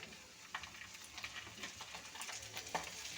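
Spice paste with added ginger paste frying in a pan for a Bengali rohu fish curry with taro and potato, giving a steady soft sizzle broken by a few scraping stirs of a spoon, close and fairly quiet.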